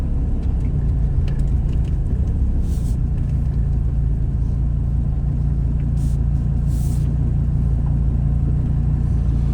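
2016 Dodge Viper GTS on the road, a continuous deep engine rumble and tyre noise heard from inside, steady and moderately loud, with brief light clicks.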